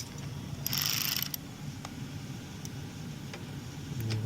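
A valve adjustment nut on a Honda lawn mower engine is tightened with a tool, giving a brief metallic ratcheting burst near the start and a few faint clicks afterward over a low hum.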